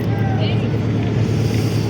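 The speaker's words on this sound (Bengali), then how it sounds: "এই আমাদের নৌকা ছেড়ে দিল" A boat sets off on the Ganges at Varanasi, its engine a loud, steady low drone with water and wind noise throughout, and people talking faintly in the background.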